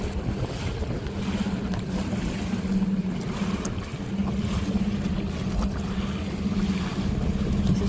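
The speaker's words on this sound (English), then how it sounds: "every time we go to the grocery store, we go by our dinghy to get to the dinghy dock" A dinghy outboard motor hums steadily as the small boat crosses Boot Key Harbor in Marathon, Florida, with heavy wind buffeting and water wash over the continuous engine drone.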